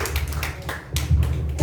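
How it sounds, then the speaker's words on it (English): A small group claps for a speaker at a speaking club meeting, light irregular hand claps close by over a low hum of the room. "Let's give a round of applause for him."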